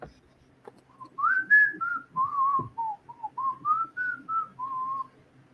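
Someone whistles a wavering tune, close and alone, with a string of rising and falling sustained notes.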